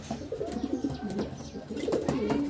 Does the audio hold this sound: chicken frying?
no